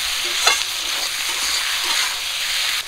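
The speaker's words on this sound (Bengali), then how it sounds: "মশলার সঙ্গে কচু আর আলুটা ভালো করে ভাজা করে নেব" Taro root and potatoes frying with spices in a pan give a steady, close sizzle with stirring scrapes throughout, a brief louder clatter near the start and no talking.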